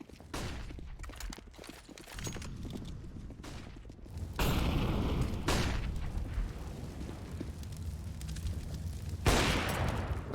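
Bursts of rifle fire and booming grenade blasts from Counter-Strike on the Vertigo map come in rapid, loud clusters, with heavy explosions around the middle and end.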